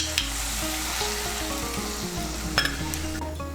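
A spice paste of chilli and coriander powder sizzles loudly and continuously in a pan of frying pointed gourd, with a couple of light utensil clinks over the steady hiss.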